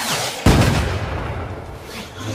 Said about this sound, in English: Since when did we add fireworks to the show?